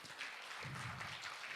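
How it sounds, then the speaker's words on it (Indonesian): Audience applause at a children's book writing workshop in Indonesia: a soft, steady wash of clapping from a moderate-sized crowd, fairly distant and quiet, continuing throughout. "boleh tepuk tangan terlebih dahulu."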